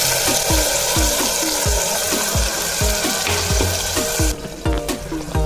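Ground masala paste sizzling loudly in hot oil in a pan, a dense continuous fry with rhythmic low scraping pulses from stirring, close and alone.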